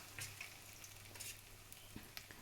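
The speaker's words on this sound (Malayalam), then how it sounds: "അതിൽ സൺഫ്ലവർ ഓയിൽ ഒഴിച്ചിട്ട് ഞാൻ 4-5 പ്രാവശ്യമായിട്ടോ ഫ്രൈ ചെയ്ത് കുറേശ്ശെ ഇട്ടിട്ട് അത് ഫ്രൈ ചെയ്യുക" Cauliflower for Gobi Manchurian frying in sunflower oil in a wok, a faint, low sizzle with a few light clicks and stirring taps over a steady background hum.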